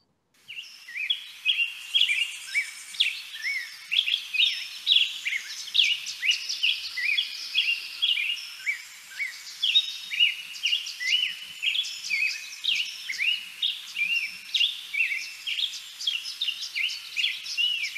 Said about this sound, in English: It's from the black-headed grosbeak, which is a bird that does come here from Mexico to breed